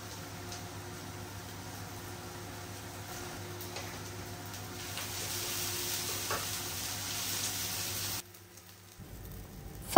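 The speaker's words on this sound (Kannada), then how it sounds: "ಈ ಈರುಳ್ಳಿ ಕಂಪ್ಲೀಟಾಗಿ ಫ್ರೈ ಆಗಲಿಕ್ಕೆ ತುಂಬ ಟೈಮ್ ಬೇಕಾಗುತ್ತೆ." Onions fry in a pan for chicken biryani, a steady close sizzle with occasional stirring clicks that grows slightly louder before cutting off abruptly near the end.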